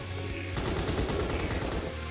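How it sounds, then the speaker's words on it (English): Heavy machine gun firing in the Nightmare Reaper video game, a rapid continuous burst of loud shots, alone without talk. "a heavy machine gun."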